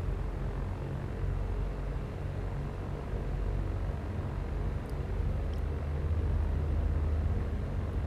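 An aircraft engine runs at full throttle for takeoff in the X-Plane 11 flight simulator, a steady, even drone that swells slightly toward the end with no talk over it.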